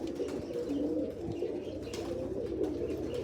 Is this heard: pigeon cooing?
yes